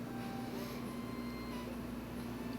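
A heat embossing tool blows steadily over a large stamped image, giving a continuous close whirring hum with an even airy hiss that holds level throughout.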